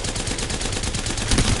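Fully automatic turbocharged weapon firing in Apex Legends, a fast, even stream of closely spaced shots, loud and up close, with no talking.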